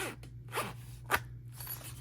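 A zipper is drawn open or shut on a padded zippered knife pouch, giving several quick, close zipping strokes in short bursts.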